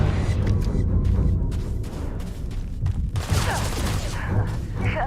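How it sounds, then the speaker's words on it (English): Explosions and bursts of gunfire in the space game Starfield, a dense, continuous barrage of blasts and shots filling the whole stretch, loud and close with no pause. "This whole place is fucking blowing up"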